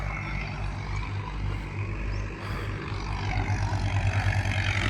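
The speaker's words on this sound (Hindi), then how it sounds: "ये ट्रैक्टर और ये जेसीबी ये मटेरियल तैयार करेंगे" A tractor and a JCB excavator work at a brick kiln, preparing clay material, giving a continuous low diesel engine drone with a steady rumbling hum, moderately near, with no talk.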